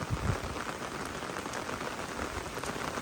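Steady rain falls in a rural garden in Thailand, a dense, even patter on surfaces throughout with no pauses, moderately loud and close, with no voices.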